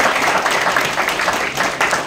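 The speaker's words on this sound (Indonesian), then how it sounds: "Tepuk tangan dong." An audience claps after a poem recital at a literature and cinema event, a loud, dense patter of hands that runs on for a couple of seconds without speech.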